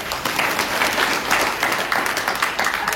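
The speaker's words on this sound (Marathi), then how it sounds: "या वाक्याला टाळ्या वाजल्या पाहिजे होत्या" A crowd at a religious kirtan discourse on the Ramayana claps steadily throughout, a dense, even applause with no one speaking.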